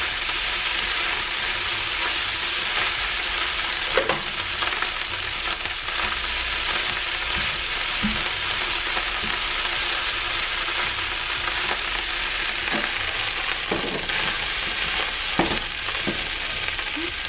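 Leftover fried rice frying in a pan: a continuous, close, even sizzle throughout, with occasional soft stirring scrapes and small pops, no talk.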